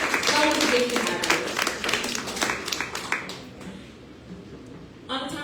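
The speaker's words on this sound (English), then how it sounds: "can we give one more round of applause" A live audience applauds loudly with dense, rapid clapping that thins out and fades over about three seconds. A brief quiet follows, and then a short sound at the end.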